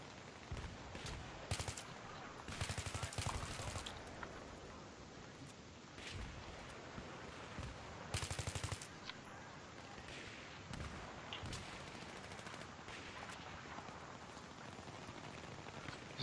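Battlefield 3 team deathmatch on the Canals map: bursts of automatic gunfire and scattered single shots over a constant hissing ambience, some volleys loud and others distant, with no one speaking.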